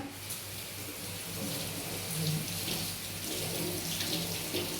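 Plain water poured into a pot of cooking mushrooms, a steady close gushing stream that runs throughout with a faint sizzle beneath.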